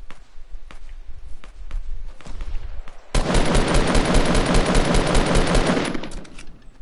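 Rapid automatic gunfire in the Fortnite video game, a loud, sustained burst of shots lasting about three seconds after a few scattered quieter clicks and steps.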